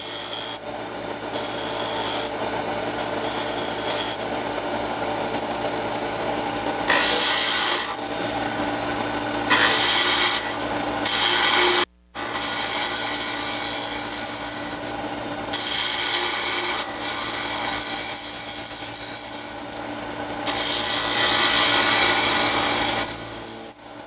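A wood lathe turning a tiny wooden ball, the steady whir of the spinning stock broken by repeated rasping, scraping bursts as the tool cuts, close and loud, with a brief gap midway and a vibrating chatter toward the end.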